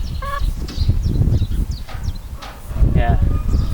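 Backyard chickens make scattered soft clucks and short calls over a low rumble of wind or handling noise, fairly close, with a couple of brighter squawks near the middle and end.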